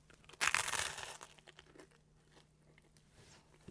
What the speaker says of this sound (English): I'm sure we'll get the crunch in the mic as well.